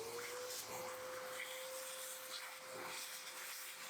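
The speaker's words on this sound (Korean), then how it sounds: "이 아래에 있는 부분도 마찬가지로 청소기로 빼내줄게요." A vacuum cleaner sucks coffee grounds out of the lower burr section of a coffee grinder, giving a steady airy hiss with a constant motor whine throughout, close and fairly loud.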